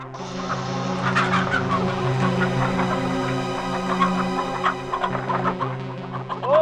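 Poultry at a farm, with dense, continuous clucking and gobbling calls from many birds overlapping close by, steady and fairly loud throughout.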